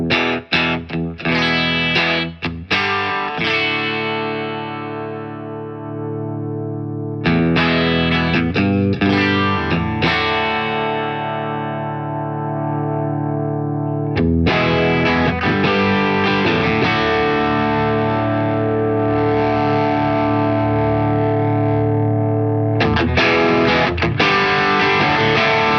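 Electric guitar through a Tumnus Klon-style overdrive pedal with a 9V voltage-boosting circuit, played as loud, driven chords and riffs, with bursts of strumming separated by brief pauses, alone with no talking.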